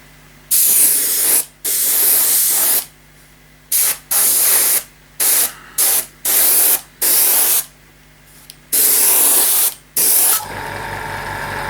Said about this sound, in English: There's going to be some overspray in places, so something I'll look at when I tidy the bottom up.